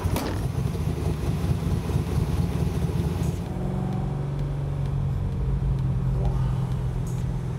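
A 7-liter Ford Galaxie 500 race car engine rumbles close by, a heavy low throb that settles into a steadier idle partway through, with faint voices in the background.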